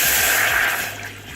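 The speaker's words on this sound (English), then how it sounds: "I have a heavy saucepan on medium, and to that I'm going to add in 2 cups of water" Two cups of water pour into a heavy saucepan on a medium burner, a loud, close, steady rushing splash that eases off slightly toward the end.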